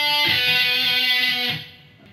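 An electric guitar plays a short sustained solo phrase, one held, bright note bending slightly before fading out after about a second and a half, alone and close.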